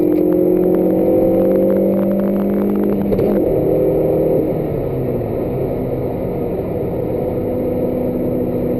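Suzuki Ignis Sport 2005 with the 1.5-litre M15A engine accelerating from inside the cabin, a loud steady engine drone with rising tones that break off around a gear change, then settle into a lower hum.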